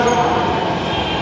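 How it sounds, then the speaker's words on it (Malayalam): Delhi metro train pulling into a station, a loud rumbling rolling roar close by, brief and continuous, with a voice faintly present underneath. "മെട്രോ വരുന്നുണ്ട്"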